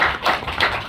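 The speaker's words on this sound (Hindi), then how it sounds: "ताली बजाओ भाई।" A few people clap in welcome for a visiting judge at a school for people with disabilities, giving three quick, light claps in about a second, close and unaccompanied by talk.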